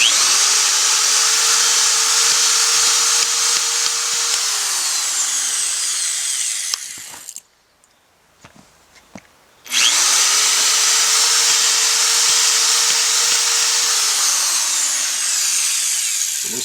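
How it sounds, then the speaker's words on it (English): A power drill bores into a tire through a drill block to seat a stud, with two long steady whining runs and a short quiet gap between them, loud and close. "The drill block also helps keep the drill straight so that the stud goes in straight."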